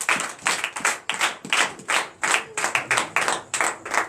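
A church congregation claps in a steady, brisk rhythm, with sharp, evenly spaced hand claps sounding together at moderate volume during an evening worship service.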